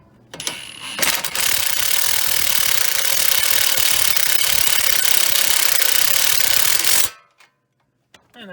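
A wrench works on a sway bar link under a Chrysler Town & Country / Dodge Grand Caravan minivan, giving a loud continuous rasping, whirring mechanical noise for about six seconds before it cuts off abruptly into near silence.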